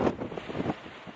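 Wind buffeting the microphone outdoors at Ribblehead Viaduct, a brief low rumbling gust that eases off within about a second.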